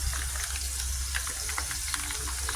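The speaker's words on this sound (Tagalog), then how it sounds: "dyan tayo magsusatay ng ating tomato paste" Tomato paste sautés in a pan while buttered shrimp is being made, producing a constant fizzing sizzle with faint bubbling pops, fairly quiet and close, with no talking over it.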